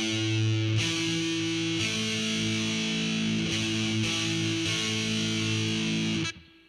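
Heavy metal chord on distorted electric guitar, strummed and sustained alone with a couple of restrikes, ringing loud and thick before cutting off near the end.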